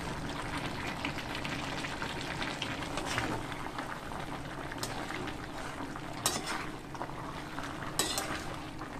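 Duck curry with tomato and chili powder is being mixed in a pan, with a low, steady sizzle and bubbling, plus a few sharp clinks and scrapes of a utensil against the pot.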